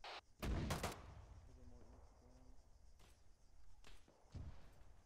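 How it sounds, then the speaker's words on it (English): Heavy artillery booms from a tank combat video game, with a loud blast near the start and further duller thuds later, over a low rumble and soft talk. "Alright, firing."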